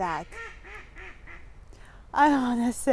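Ducks quack in a short run of nasal calls, then one louder, longer call near the end, with a voice talking softly underneath.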